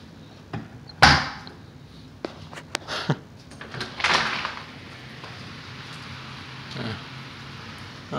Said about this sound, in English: Solid doors.